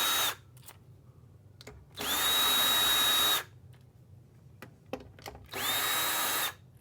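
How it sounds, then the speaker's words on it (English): A power drill fitted with a magnetic tip backs screws out of a Gaggia Titanium espresso machine, whirring in two loud, sustained bursts separated by quiet clicks and handling taps. "I'm using a power drill and I got a magnetic tip"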